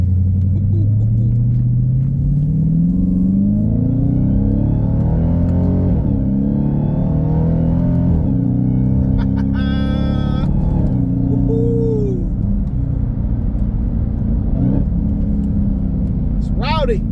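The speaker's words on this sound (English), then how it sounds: "let's paddle shift this thing." A Dodge Hellcat's engine, in custom mode, roars loudly while being paddle shifted, its revs climbing and dropping through several quick gear changes under a steady road rumble, with a voice heard briefly at moments.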